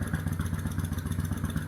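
A Honda Steed 400 motorcycle engine idles close by with a steady, rapid low thumping pulse and a faint mechanical rattle.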